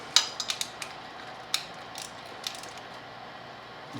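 A ratchet wrench with an 8mm socket tightening a bolt on a Honda GL1500 Goldwing carburetor gives a few sparse, sharp metallic clicks, close and fairly quiet, with gaps of stillness between.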